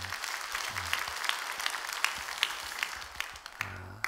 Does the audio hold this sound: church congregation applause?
yes